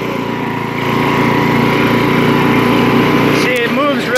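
A Troy-Bilt 33-inch wide-cut walk-behind mower engine runs steadily in fourth gear, a loud, close, continuous drone with a brief shift in tone near the end.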